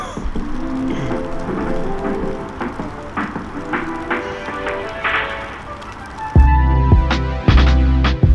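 Hail and rain falling together in sunshine, a dense patter of drops with scattered sharper ticks, followed by several loud, close thumps and clatters near the end.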